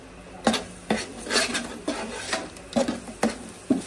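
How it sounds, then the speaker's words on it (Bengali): Broiler chicken with a spice mix being stirred and fried in a pan, a spoon scraping and clinking against the metal in repeated strokes, with a soft patter of frying underneath and no talk. "তারপর মশলাটা ভালো করে ভুনে নিতে হবে।"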